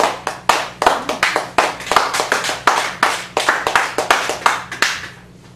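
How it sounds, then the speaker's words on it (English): Scattered hand claps at a Chicago café poetry open mic, sounding like a small handful of people clapping unevenly with sharp, distinct slaps, some close, tapering off after about five seconds. "Save any applause you have to the end."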